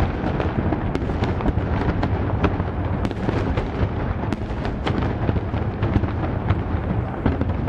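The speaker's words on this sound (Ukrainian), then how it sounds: "Якщо не фейерверки, то петарди." Fireworks and firecrackers burst on city streets in Kyiv, a rapid irregular string of sharp cracks and pops over a rumbling background, some near and loud, others distant.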